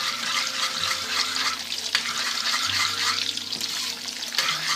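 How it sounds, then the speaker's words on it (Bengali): Masoor dal cooks in a pot on the stove as it is stirred, a continuous soft bubbling and scraping wash heard close and steady, with no voices. "এখন একটু নেড়ে দিচ্ছি ডালটা"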